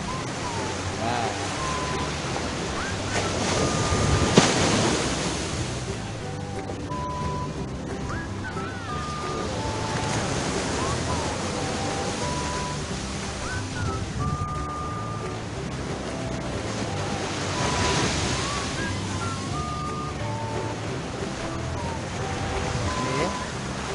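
Ocean surf on Katamaran beach in Sri Lanka, a continuous rolling wash of waves swelling and easing, with scattered distant voices and occasional dog barks in the background.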